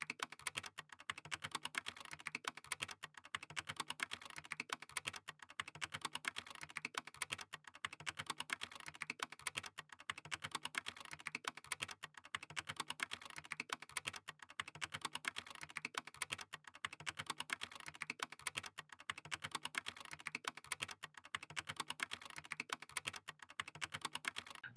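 Code being typed on a computer keyboard, a continuous stream of quick, light key clicks at a fairly even pace, close and moderately quiet, with no talking.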